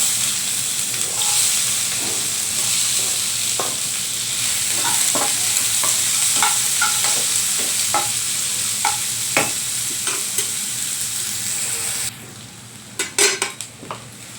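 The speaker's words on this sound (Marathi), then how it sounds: "लसण जिरं परतून नंतर आपण या कांदा घालूया" Onion fries in hot oil with garlic and cumin, giving a steady loud sizzle with scattered utensil scrapes and stirring clicks. Near the end the hiss drops away and a few sharper knocks follow.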